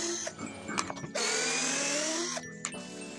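DCK KDJZ1602 cordless drill whirs in bursts driving large and small screws, a steady high motor whine broken by short stops and clicks, close and fairly loud.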